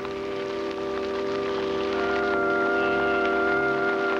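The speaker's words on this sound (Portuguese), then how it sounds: "Bem na hora, nossa irmã Chuva veio nos visitar." Steady rain falling in a desert village scene, a continuous hiss of drops with a constant low hum beneath it.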